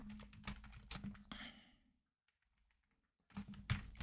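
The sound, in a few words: typing code on a computer keyboard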